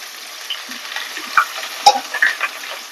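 Two large onions and two green chillies frying in oil for country chicken curry: a soft steady sizzle with a few sharper crackles and spatula scrapes, close by.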